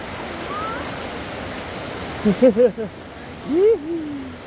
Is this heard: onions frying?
no